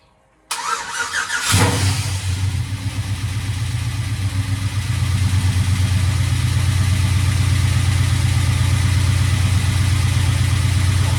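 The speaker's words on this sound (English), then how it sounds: "So let's go ahead and crank this thing over and see what it does." A rebuilt LS V8 engine cranks briefly, then catches and fires up into a steady, loud, rumbling idle that holds to the end, with no talk.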